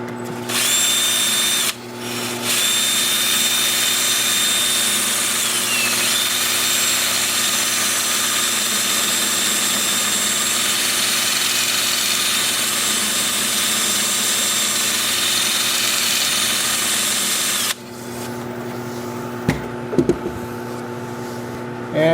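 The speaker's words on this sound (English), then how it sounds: "I will use a 2-inch disc, varying grits up to 400, starting at, I don't know, 120, and just sand this area here" Walnut turning spinning at about 350 on a wood lathe while a 2-inch sanding disc works the surface, a steady, whining power-tool drone lasting most of the stretch before it drops away near the end.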